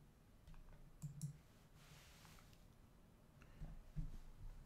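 A computer mouse gives a few quiet clicks at close range, two small pairs of taps over a near-silent background.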